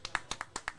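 A few people clap slowly and faintly on a live sports stream, roughly seven distinct claps in under a second with no voices.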